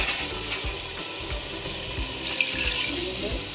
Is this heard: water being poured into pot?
yes